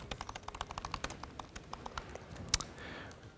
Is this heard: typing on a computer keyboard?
yes